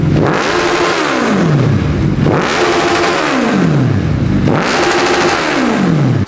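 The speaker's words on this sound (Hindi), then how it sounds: "बाइक की आवाज बहुत पसंद आई होगी" A Suzuki Hayabusa motorcycle engine revs hard three times, each rise in pitch followed by a falling whine, loud and close with no talking.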